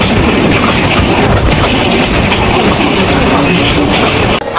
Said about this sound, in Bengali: জানালার কাছে বসে এসে ট্রেন জার্নি করতে অনেক সুন্দর লাগছে